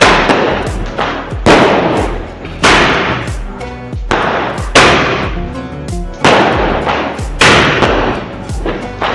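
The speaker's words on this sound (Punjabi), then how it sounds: "ਲਾਸਟ ਲਾਸਟ ਗਿਆ ਪਟਾਕਾ ਚੱਲ ਰਿਹਾ" Diwali firecrackers explode in a rapid series of loud, sharp bangs, some followed by crackling bursts, close and booming.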